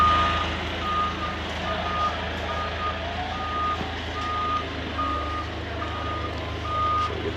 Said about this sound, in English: we can just offload it on the forklift onto the trailer